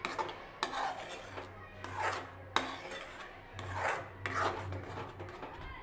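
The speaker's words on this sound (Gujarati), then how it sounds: "આપણે ગેસની ફ્લેમ બંધ કરી દઈશું અને થોડી વાર હલાવી લઈશું" A carrot sweet mixture in a kadai, with the gas turned off, is stirred in slow, repeated scraping strokes against the metal pan, close and soft, with occasional sharper clinks of the spoon.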